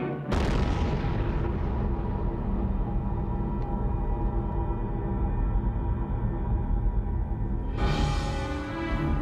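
The Mike thermonuclear bomb test in the Marshall Islands erupts into a sudden loud blast, then a sustained deep roaring rumble, and a second burst of noise rises near the end.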